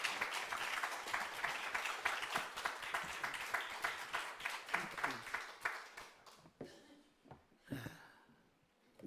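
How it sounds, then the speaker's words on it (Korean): A church congregation applauding in a Korean Presbyterian church sanctuary, sustained warm clapping that fades out toward the end, with a few faint voices. "이 시간 우리 목사님 나오실 때에 뜨거운 박수로 우리 환영해 주시면 감사하겠습니다"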